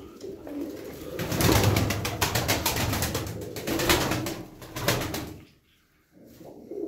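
Pigeons coo in repeated rolling calls close by, several overlapping bursts followed by a brief lull and a softer coo at the end.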